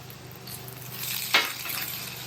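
Fresh potato hash browns fry on a hot griddle, giving a soft, steady sizzle with one brief sharper hiss partway through, and no voices.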